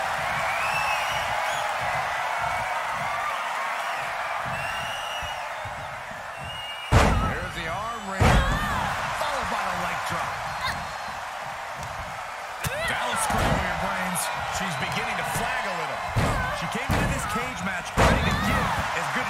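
Heavy slams and thuds of a wrestler crashing against a steel cage in a wrestling video game, several loud impacts over a steady crowd roar, with commentary talking throughout.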